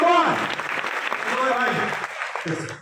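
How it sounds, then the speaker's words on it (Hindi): Brief applause from an audience at a Vestige business training program at Pyare Lal Bhawan in Delhi, a wash of clapping running under a voice that keeps talking throughout. "मैं चाहूंगा एक बार जोरदार तालियां।"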